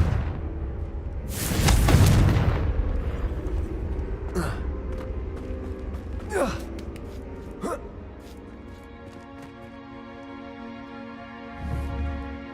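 A Confringo explosion spell goes off in Hogwarts Legacy as a loud, booming blast with a broad roar, followed by a few sharp cracks and whooshes over an ongoing musical bed.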